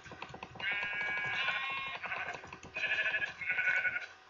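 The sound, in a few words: sheep bleating in the Minecraft video game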